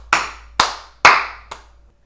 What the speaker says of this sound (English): now we actually do clap?